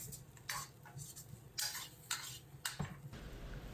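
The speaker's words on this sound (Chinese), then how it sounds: "最后放入头茬小韭菜，开大火翻炒10几秒钟" Chives and tofu stir-fried over high heat in a wok, with quiet, irregular spatula scrapes and clinks against the metal, about half a dozen strokes, close and faint with no talking.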